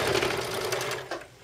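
Sewing machine stitching along one side of a fabric plush toy, a steady close whirring hum that continues for most of the moment and then tapers off near the end.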